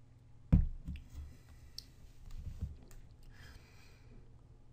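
A single sharp mouse click on a search button, quiet and close, followed by faint room noise.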